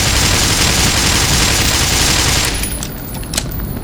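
A sentry turret in the video game Black Mesa unleashing a loud, dense, continuous burst of rapid gunfire for about two and a half seconds, then cutting off into scattered quieter shots.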